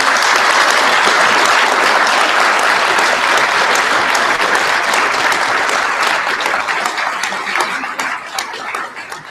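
Sustained audience applause congratulating scholarship recipients at a Service Above Self scholarship ceremony, loud and dense clapping from a large crowd that holds steady and then thins slightly toward the end.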